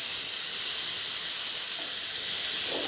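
Taro pieces fry in hot oil with a steady, close hiss and sizzle that stays even throughout, with no voices.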